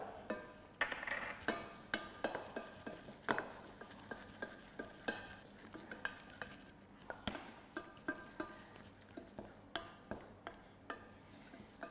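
A utensil stirs flour into fat to make a roux for a beef stock sauce, producing faint repeated scraping and light clinks against the pan at a steady rhythm.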